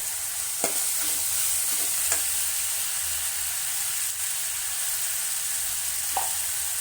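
Onions and ginger-garlic paste fry in a pan for mutton kola urundai kulambu, a constant close sizzle with a few soft scrapes and clicks of stirring.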